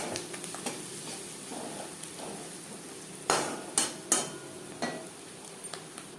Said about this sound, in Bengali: পেঁয়াজ লালচে করে ভাজা হয়ে গেছে